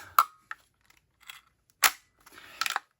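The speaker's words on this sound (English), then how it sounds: "the bolt snaps forward" A rifle bolt snapping forward: a few sharp metallic clicks and clacks spaced apart, with one louder snap near the middle, close and otherwise quiet.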